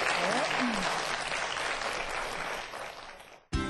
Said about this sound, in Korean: 최강열 교수님께 큰 박수 보내드리겠습니다